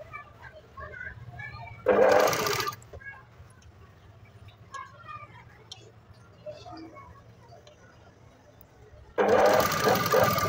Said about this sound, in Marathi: एकदम कडेकडेवर आपण शिलाई देऊन घेतो